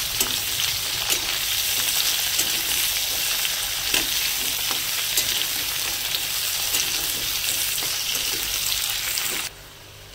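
Kohlrabi pieces frying lightly in oil make a loud, steady, close sizzle that runs without a break, dropping abruptly to quiet just before the end, with no voices.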